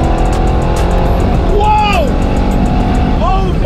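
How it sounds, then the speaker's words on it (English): A Mercedes E63s tuned to stage 3 with 1007bhp roars loudly as it accelerates, a dense continuous engine note with rising whines, while people shout and talk excitedly over it. "this is definitely the fastest car that I have officially"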